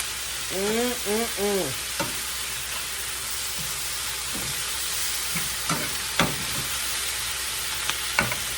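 Pork chops and cabbage frying in a skillet, a steady moderate sizzle throughout, with clinks and scrapes of a spatula and a few short squeaky utensil sounds early on.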